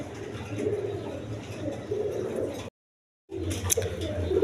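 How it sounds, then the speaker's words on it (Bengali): A pair of Chuachandan pigeons coo softly and steadily in a farm setting, broken by a brief silent gap before the cooing resumes. "এখানে এক পেয়ার চুয়াচন্দন কবুতর আছে"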